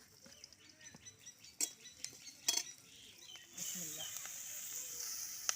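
Onion, garlic and green chillies frying in a pan with oil, a soft steady sizzle rising after a few sharp utensil clinks and scrapes, with a brief spoken word near the start.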